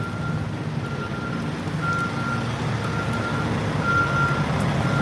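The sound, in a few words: yard jockey truck reversing beeps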